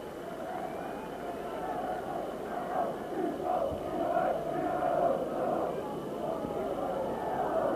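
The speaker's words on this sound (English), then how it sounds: "Just listen to the applause from the Bolton army here." Bolton Wanderers fans in a 1988 FA Cup third-round crowd against Barnsley give a sustained, distant roar of applause and cheering, swelling and easing across the stand with a commentator talking over it.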